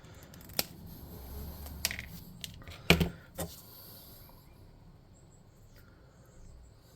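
Small scissors or clippers snipping the head off a miniature figure, a few sharp close clicks and cuts spread out over quiet background, one louder snap in the middle.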